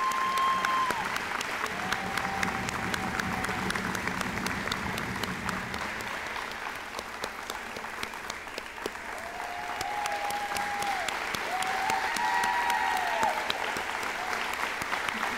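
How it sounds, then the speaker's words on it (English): Audience applause for Jacob Salinas at a letter-of-intent signing event: a sustained round of clapping from a crowd, steady and fairly even throughout, with faint voices murmuring underneath. "Big round of applause for Mr."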